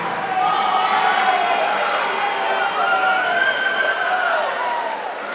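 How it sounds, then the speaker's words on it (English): Crowd noise fills a poolside at a short-course swimming final, a loud, steady wash of cheering and shouting from many people that holds throughout. "Lots of crowd support on the poolside as well."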